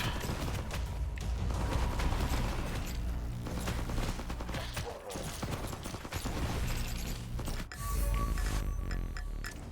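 SMG fire in the FatalZone survival shooter: loud, sustained rapid bursts run almost continuously, layered with dense in-game effects and a brief drop before the shooting picks up again.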